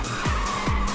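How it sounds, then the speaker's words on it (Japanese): Car drifting in the Ridge Racers 2 racing video game, a loud continuous engine roar with two sharp sliding tire skids, close and with no speech. "綺麗なドリフトね。"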